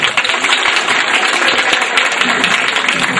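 Audience applause at a Coimbatore ICOS youth festival, steady dense clapping throughout, fairly loud and continuous with no talk over it.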